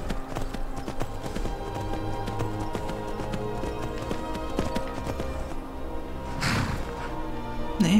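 A horse trots with steady clip-clopping hooves in Skyrim, a modded Xbox One game, with rhythmic close hoofbeats over ambient game sound and a brief louder impact near the end.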